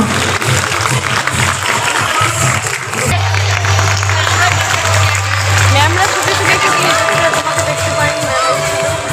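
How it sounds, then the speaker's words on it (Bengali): An audience at a children's abacus prize-giving stage event claps and cheers loudly and continuously, the crowd noise mixed with voices throughout. "একটা জোরে হাততালি করে"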